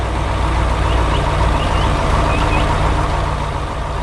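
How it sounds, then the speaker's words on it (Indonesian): A red truck rolls slowly through a green farm field in an animated cartoon, heard as a loud, continuous low engine rumble with faint intermittent high beeps over it. "Truk merah berjalan perlahan di tengah ladang hijau."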